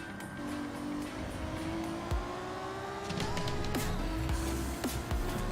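A race car engine in a racing game, on track at Road Atlanta, hums and revs at a moderate level after a downshift, its pitch sliding in steady tones with small clicks and bumps throughout.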